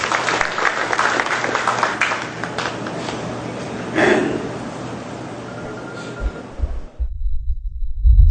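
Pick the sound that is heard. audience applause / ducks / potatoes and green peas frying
audience applause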